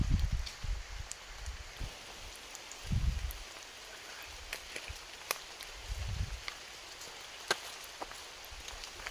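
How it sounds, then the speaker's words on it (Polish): Soft, steady patter of rain with scattered sharper drips, plus a few low thumping rustles like movement or footsteps nearby. "Deszcz jednak nie przestał padać."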